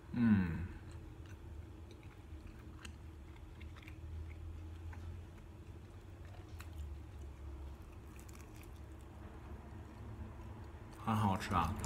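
Chewing a thin-crust Domino's ham and cheese pizza with crispy cheese and barbecue sauce, faint soft bites and crunches close to the mic, with louder crunching at the start and end.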